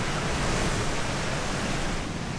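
Now and Then Falls, a waterfall on the Amnicon Falls trail loop, makes a continuous, even rush of falling water that stays dense and steady from start to finish.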